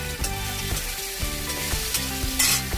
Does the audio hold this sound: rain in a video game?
no